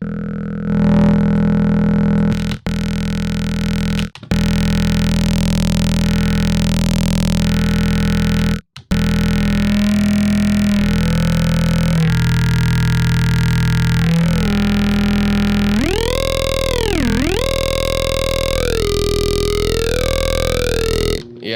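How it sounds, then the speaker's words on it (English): A continuous buzzing synthesizer tone, harsh and distorted, with filter sweeps that bend and wobble the pitch, broken by a few brief dropouts. "Let's put some distortion and compression on."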